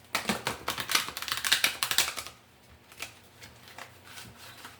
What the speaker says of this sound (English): I want to give it a couple more shuffles.